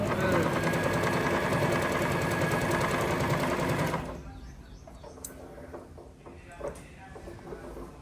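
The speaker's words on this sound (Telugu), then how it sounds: "నొక్కి ఫుడ్ కంట్రోల్ తొక్కితే చాలు ఇప్పుడు చూడండి మిషన్ తిరుగుతుంది" A sewing machine started with a foot control runs loud and steady with a dense mechanical whir for about four seconds, then stops, leaving faint clicks and handling noises.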